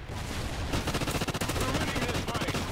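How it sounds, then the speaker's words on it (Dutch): Rapid automatic gunfire from a weapon in Call of Duty: Ghosts, a dense, continuous stream of fast shots rattling steadily and loudly throughout without pause. "het lijkt net alsof hij echt joekel snel schiet gewoon"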